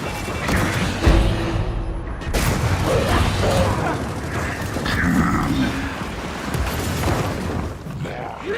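A thrown frag grenade in a video game goes off with sharp, crashing blasts, mixed with mechanical clatter and busy background game noise.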